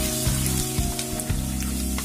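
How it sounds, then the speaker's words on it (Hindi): Crushed garlic cloves fry in a pan for Rajasthani patod sabji, a close, dense sizzle with a few soft knocks, brief and steady, without talking. "चार 5 लहसुन की कलियों को मैंने कूट लिया था, उसे भी डाल रही हूँ। इसे 2-3 मिनट तक फ्राई करेंगे हम।"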